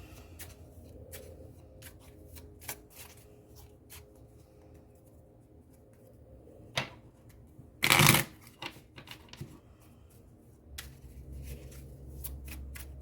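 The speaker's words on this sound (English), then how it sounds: "those playing cards that we were dealing with there" A deck of playing cards is shuffled at a tarot-style reading, with soft scattered card flicks and taps, then one loud riffle burst midway and quieter handling afterward.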